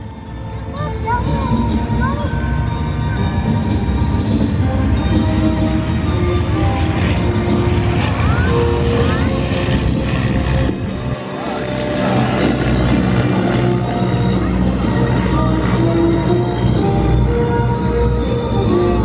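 Steady propeller engine drone from aircraft flying close together in formation, loud and continuous with a brief dip partway through, with faint talk beneath the roar.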